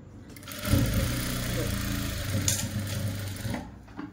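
Sewing machine stitching a palazzo seam with a backstitch lock, a steady whirring motor run lasting several seconds, close and moderately loud, starting and stopping cleanly with a faint voice in the background.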